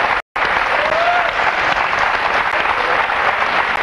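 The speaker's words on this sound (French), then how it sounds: "On l'applaudit très fort." Loud, sustained studio audience applause on a French television game show, dense and even throughout after a brief dropout near the start, with no voices over it.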